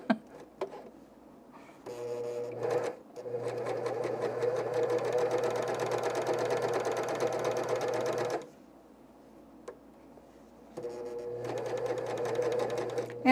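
An overlocking serger runs over a seam of underwear fabric in two steady bursts of machine whirring, the first long and the second shorter, with a quiet pause and a couple of small clicks between them.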